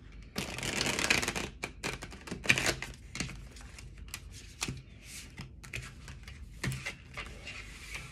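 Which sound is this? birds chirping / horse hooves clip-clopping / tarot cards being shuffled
tarot cards being shuffled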